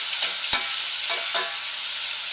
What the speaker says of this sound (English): The onion cooks up pretty quickly in the hot bacon grease.